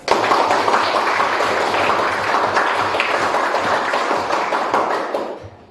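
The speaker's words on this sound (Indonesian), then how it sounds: "Beri tepuk tangan." Classroom of students applauding together at the end of a lesson, a dense steady patter of many hands clapping for about five seconds before tapering off.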